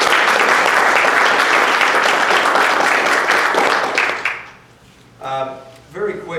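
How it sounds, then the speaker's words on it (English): Audience at a transit innovations session applauds loudly and steadily, the clapping fading out after about four seconds, followed by a few brief voices. "Can we give him a round of applause for that"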